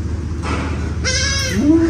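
A goat bleats on a farm, one clear nasal cry rising near the end, close and loud over a steady low background hum, with no speech.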